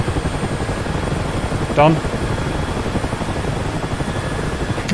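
A Mi-8 helicopter in a DCS World flight simulation runs its engine and rotor with a steady, rhythmic thumping drone, and a voice briefly speaks partway through.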